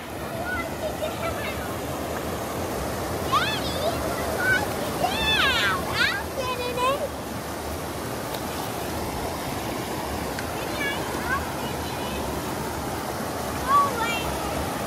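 River current at a swimming hole rushes steadily and fairly loud throughout, a continuous broadband wash with no breaks, while faint chirpy sounds briefly rise above it.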